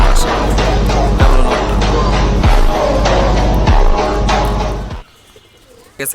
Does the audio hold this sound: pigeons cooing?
yes